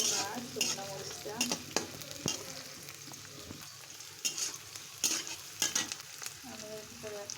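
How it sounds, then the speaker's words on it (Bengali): Garlic, onion and dried red chili frying in oil in a pan, a constant soft sizzle broken by frequent clattering spatula stirs and scrapes, close and fairly quiet, with no talking. "এখন এটা রসুনটা লাল লাল করে ভেজে দেবো। পেঁয়াজ, রসুন আর শুকনো মরিচটা।"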